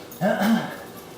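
A dog lets out a short, close whimpering whine, rising and falling briefly before fading.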